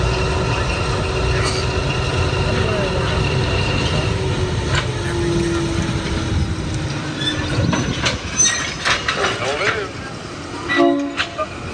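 A train passes at Railtown 1897 State Historic Park with a loud, steady rumble and long sustained horn tones, then rattling clatter builds near the end, with faint voices mixed in.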